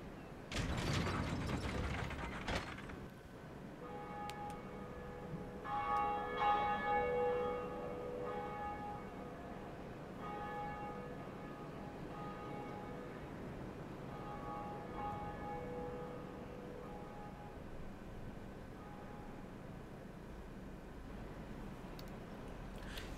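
A lever-pulled Bell of Awakening in the Dark Souls video game, heard as a steady mechanical grinding and clanking with a sustained metallic ringing tone that repeats several times, loud and alone without talk.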